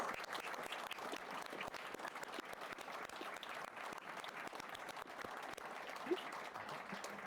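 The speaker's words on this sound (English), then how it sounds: "let's give a big round of applause for our special guest" A studio audience applauds a special guest at the close of a rugby league talk show's World Club Challenge special, a steady dense clapping that holds evenly for several seconds with faint voices mixed in.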